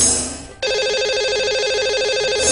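A telephone ring tone for a call placed into a live Hindi radio phone-in show: a steady, loud warbling electronic ring that starts abruptly after a fading tone and continues without talk.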